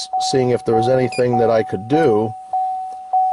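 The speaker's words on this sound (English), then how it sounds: "Sorry about the beeping. Not much I can do about it." A steady high electronic tone with short beeps repeating every half second or so inside a Chevrolet Volt during a TPMS relearn, while someone talks over it close by.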